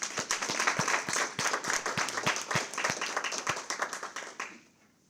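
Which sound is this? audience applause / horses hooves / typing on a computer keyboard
audience applause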